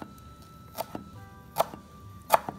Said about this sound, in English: I'm going to roll them up like so and cut them into very thin slices